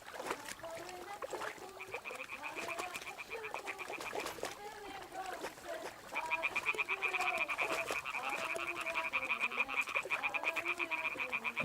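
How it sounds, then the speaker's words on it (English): Repeated croaking frogs in a video game, Kingdom Come Deliverance II, call in overlapping rhythmic pulses, joined midway by a steady high trilling chorus, fairly close and continuous. "Or frogs."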